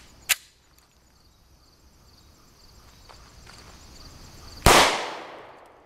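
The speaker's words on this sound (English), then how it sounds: "We'll take 5 shots with both barrels against our chronograph and see which one's faster" Two sharp 5.7x28mm pistol shots over a chronograph outdoors, a loud crack near the start and a louder one near the end with a trailing echo, quiet in between.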